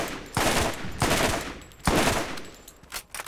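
Gunfire in Borderlands, several loud bursts of rapid shots in quick succession with brief pauses between volleys, close and sharp, with no talking over it.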